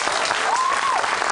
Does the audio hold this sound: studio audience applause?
yes